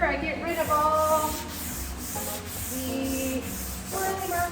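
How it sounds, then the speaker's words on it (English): Hand sanding of a mid-century wooden dresser with 220 grit sandpaper, a loud, close, continuous rubbing with steady back-and-forth strokes. "I always like to go in with a hand sanding with a 220 grit"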